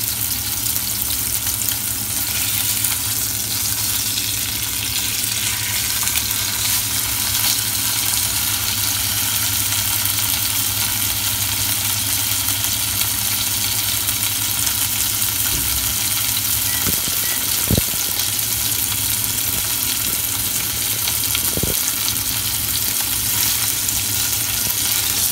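Steak frying in a pan, a loud continuous sizzle and crackle close up, with a low steady hum beneath and a few brief clicks and knocks near the end.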